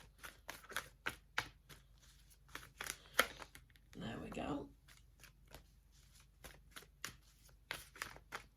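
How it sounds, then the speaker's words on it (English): Rapid riffling and snapping of tarot cards being shuffled, repeated in quick bursts with a longer riffle in the middle, while a person speaks briefly. "let's get these shuffled and we'll see what's coming out for you"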